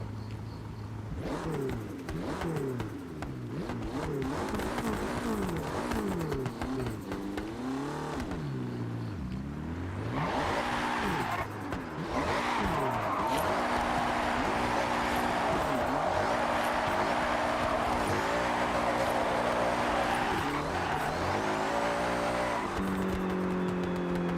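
A BMW M3 fitted with anti-lag in the Forza Horizon 6 racing game, its engine revving up and down through gears with crackling pops, loud and continuous.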